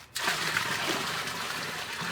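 Hot water pours steadily over a Camaro engine part coated in molasses. After a brief quiet start, a continuous splashing gush runs to the end at an even level, with no voices.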